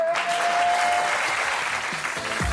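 A television studio audience bursts into sustained, dense applause on a French talk show, close and loud throughout, tapering slightly at the end.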